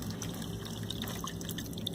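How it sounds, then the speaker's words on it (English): Water trickling and dripping inside an AeroGarden hydroponic unit, pumped up by its recirculating pump to the roots of a hot pepper plant and dropping back down. It makes a steady, close, gentle splashing with no voices. "You can hear a little bit of trickling because the water actually gets pumped up to the base of those roots and drops down"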